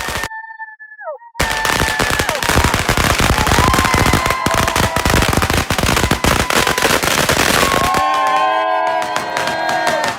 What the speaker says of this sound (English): The sound of firecrackers fills the air so completely it seems to shake the night itself